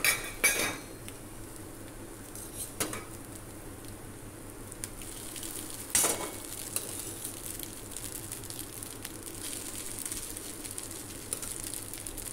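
Cooked rice is tipped into a pan of scrambled egg for egg fried rice, and a spoon clinks and scrapes against the pan in a few sharp knocks over quiet kitchen background, with no talking.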